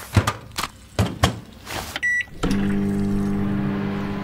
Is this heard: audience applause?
no